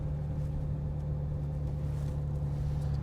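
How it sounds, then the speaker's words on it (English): A Jaguar E-Type engine runs smoothly while driving, a steady low hum and drone with no clear gear changes, continuous and moderately loud throughout. "The engine is so smooth and so torquey, and that gear change is beautiful."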